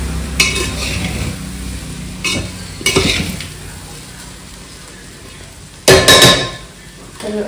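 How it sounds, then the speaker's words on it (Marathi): A spoon stirs veg pulao rice in a pot, scraping and clanking in short separate bursts with a louder burst of rough scraping near the end, over quiet background hiss. "कारण खाली लागून येतो ना त्याच्यामुळे मिक्स करून घ्यावं लागतं आधी."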